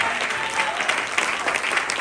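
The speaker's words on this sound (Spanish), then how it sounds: "Dele palmas a Jesús." A church congregation claps loudly and steadily, a dense, continuous patter of many hands close by, with voices blended in the din.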